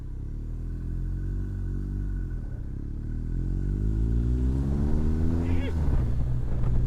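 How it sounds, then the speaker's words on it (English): A BMW R1250R SE motorcycle engine revs up nearby, its pitch climbing and falling through gear changes, with a voice briefly speaking over the loud rumble. "Motorbike"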